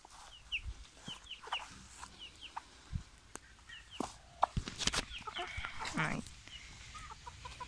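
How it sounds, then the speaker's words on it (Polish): Hens cluck and murmur nearby in short bursts, with scattered rustling and knocks and some quiet background voices. "więc wypuściliśmy kury"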